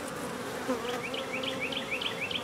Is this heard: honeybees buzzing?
yes